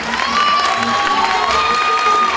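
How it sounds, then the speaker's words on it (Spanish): A school audience cheers and claps for two student musicians, a loud crowd roar with shouts and whoops, a sustained whistle-like tone running through, and applause mixed underneath. "Un fuerte aplauso para Simón y para Bruno."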